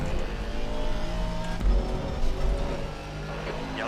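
Aston Martin GT4 race car engine at Zandvoort in a racing video game, a steady loud droning roar held at high revs, with a slight dip and surge partway through and no voices.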